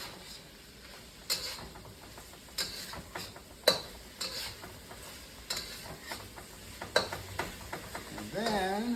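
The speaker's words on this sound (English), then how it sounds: "Onions and the ginger back in. I'm going to mix those around." Onions, garlic and ginger stirred in a wok, with scattered scraping and clinking of a utensil against metal over a faint sizzle, while a voice speaks intermittently.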